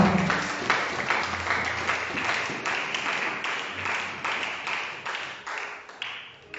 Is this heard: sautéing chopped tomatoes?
no